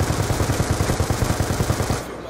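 Rapid automatic gunfire from Call of Duty Black Ops 2 multiplayer rattles out in a loud, steady burst of close shots, stopping abruptly near the end.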